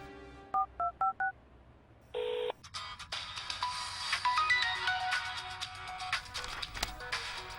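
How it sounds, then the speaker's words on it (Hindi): A few electronic dial tones beep in quick succession, then a loud, bright ringtone melody plays continuously. "ओह, रम्या का फोन है।"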